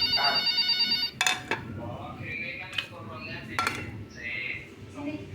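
Telephone ringing inside a night-nurse horror video game, a repeating electronic ring pulsing steadily for about a second before sharp clatter and a voice talking over the game's ambience.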